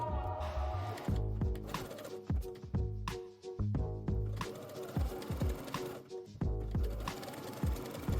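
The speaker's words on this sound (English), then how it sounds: "Stretch the elastic to fit the area and zigzag along the seam allowance." A sewing machine zigzag-stitching stretched elastic onto a seam allowance for a dress bust cup, running in a series of close, rhythmic mechanical bursts with short pauses between runs.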